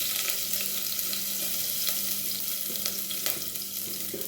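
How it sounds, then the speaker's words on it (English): Fresh turmeric sizzling and frying in hot oil in a pot, a steady close crackle with faint bubbling and a few sharper pops, no talking. "I will start by adding oil in my pot. Then infuse the oil with some fresh turmeric."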